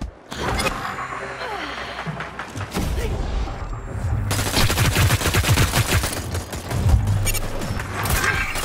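Enemy fire in a video game: rapid automatic gunshots crackle in dense bursts, growing heavier and more continuous in the second half, with a voice briefly heard over the shooting.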